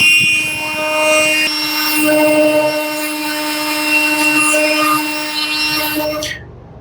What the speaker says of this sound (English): So I'm just going to do this with a sander.